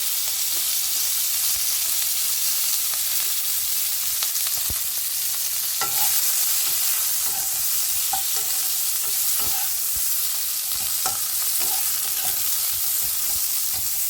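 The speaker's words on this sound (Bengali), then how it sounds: "বেগুনগুলো ভাজা হয়ে যাওয়ার পর এবার আমি এখানে দিয়ে দেবো শিমগুলো। এগুলো হালকা একটু নেড়ে চেড়ে" Broad beans stir-fry in a hot pan with fried eggplant, a loud steady sizzle broken by repeated scrapes and clicks of a spatula turning the vegetables, with no talking.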